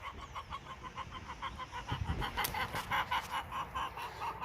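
Chickens clucking steadily in a backyard flock, a dense, continuous chorus of overlapping clucks and calls throughout, fairly close and loud with no talk.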